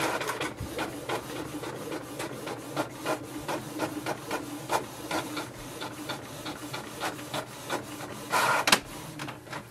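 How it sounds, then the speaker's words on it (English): A Canon PIXMA TS5000 series all-in-one printer prints a page wirelessly, giving off rhythmic mechanical whirring and clicking as the paper feeds, ending in a louder burst of motor noise, with no talk over it. "it will instantly send the command for the printer to print the page"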